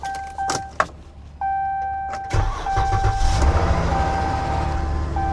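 A car cold-starting at an auction: a few mechanical clicks and a whirring crank, then the engine catches and settles into a loud, slightly rough idle close by, with no one speaking.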